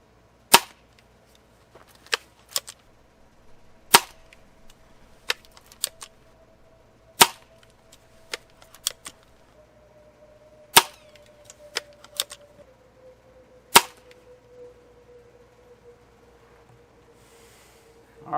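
Benjamin Trail NP air pistol firing JSB Straton 8.26 grain pellets, a series of sharp, dry cracks at irregular intervals over a faint steady electronic hum, with no talking.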